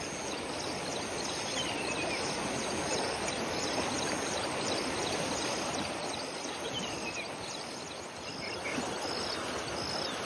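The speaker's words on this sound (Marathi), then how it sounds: "जलवाहिनी असलेल्या कयाधू नदीला इथे पूर आलाय." Floodwater of the swollen Kayadhu river after heavy rain rushes in a steady, dense broadband roar that holds unbroken throughout, with faint high insect or bird chirps above it and no voices.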